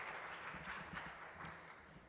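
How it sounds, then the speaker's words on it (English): Faint applause from a convention audience, a soft patter of many hands clapping at low volume that fades slightly toward the end. "Let's give him a round of applause"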